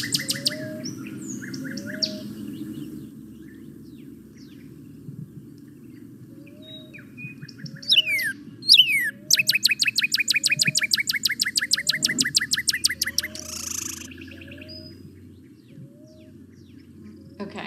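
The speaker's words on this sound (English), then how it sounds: "of the calls that I'm going to play has a duet where they're a male and a female singing back and forth" A male and female bird sing a duet, trading phrases back and forth: repeated short clear whistled notes, then a burst of rapid chattering trills, heard as a recording over a faint background hum.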